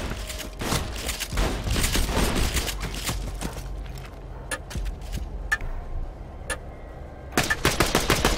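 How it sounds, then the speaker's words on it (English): Rapid machine-pistol bursts from Borderlands 2, crackling in quick sharp volleys with brief pauses between them, close and loud, and a final dense burst near the end. "Machine pistol."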